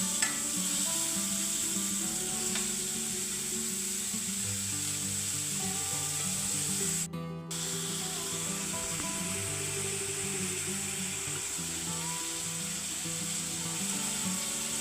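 Onions frying in a pan for neer dosa and prawn curry, a steady soft sizzle throughout with occasional stirring scrapes and a brief break partway, no talk.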